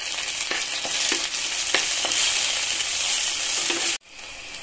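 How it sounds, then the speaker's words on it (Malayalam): Tomatoes fry in oil with onion, garlic, green chilli and salt, a loud, dense sizzle broken by a few stirring clicks, with a brief drop near the end. "ഞാൻ തക്കാളിയാണ് ഇട്ട് കൊടുത്തിട്ടുള്ളത്"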